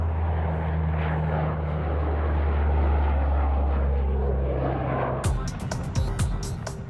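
Deep, steady rotor and turbine drone of an RAF Chinook helicopter at a dusty Afghanistan base, loud and continuous, with sharp clattering bursts near the end.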